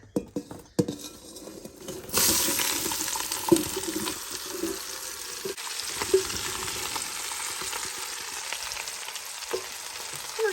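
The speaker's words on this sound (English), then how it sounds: "All right, into the pot go our onions." Onions dropped into melted butter in a soup pot, starting with a thud and clatter before a sudden, steady sizzle takes over, with stirring scrapes and occasional knocks against the pot.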